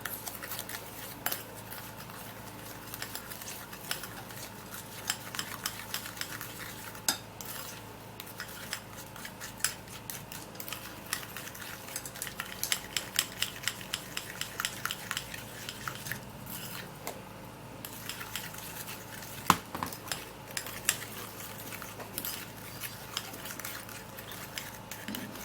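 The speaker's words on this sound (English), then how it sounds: "And now we would have to mix it all up." A homemade teeth-whitening paste being stirred and mixed in a small container, with light, rapid clinking and scraping of a utensil repeating through the whole stretch, close but quiet, with no voices.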